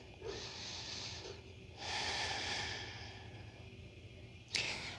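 Deep, slow breaths during a yoga session, a long airy exhale followed by a fuller inhale, quiet and close, ending in a sharp short sniff.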